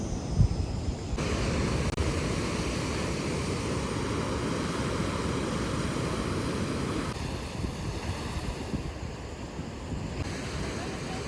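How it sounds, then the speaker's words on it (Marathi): Sea waves wash against a cliff at a quiet coastal spot, a steady low rumble of surf mixed with wind buffeting the microphone, continuous and moderately loud. "बघू शकता इथे खूप शांतता आहे आणि फक्त समुद्राचा आवाज आहे"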